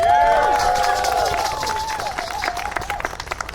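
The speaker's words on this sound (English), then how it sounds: "And a huge round of applause for their director," An audience claps and cheers for the director of a steel drum band, with loud whoops and voices riding over steady applause that fades gradually toward the end.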